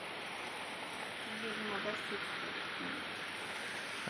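Heavy rain pours down in darkness during a power cut, a steady broadband hiss of downpour filling the scene while a voice talks faintly underneath.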